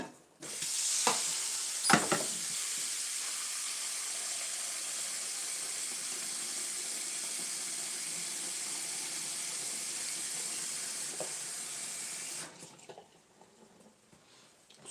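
Eggs frying and burning in a hot pan give off a steady, loud sizzle and hiss that runs nearly unbroken for about twelve seconds, with a few clatters near the start, then drops away to quiet.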